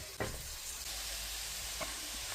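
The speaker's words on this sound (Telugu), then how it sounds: "ఇప్పుడు ఇందులో ఈ కట్ చేసిన కోల్గేట్ ముక్కలు వేద్దాం" Cut courgette pieces frying in a pan for a chickpea curry, a continuous dense sizzle with a couple of brief louder spits.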